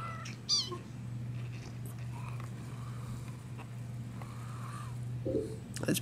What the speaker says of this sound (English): That's Bobcat who's meowing.